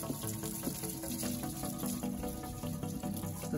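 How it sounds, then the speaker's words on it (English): A gentle, low-pressure stream of water runs over a car engine during cleaning, a soft continuous splashing and trickling with faint irregular drips, fairly quiet and close, with no voices. "You just want a very gentle stream of water."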